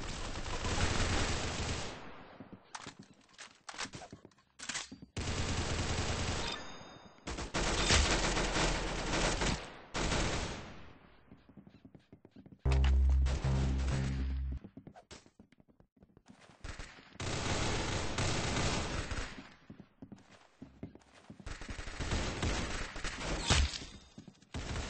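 Rapid gunfire bursts in the Roblox-style shooter Arsenal, loud automatic volleys separated by brief gaps, with a heavier booming shot midway, and no voices.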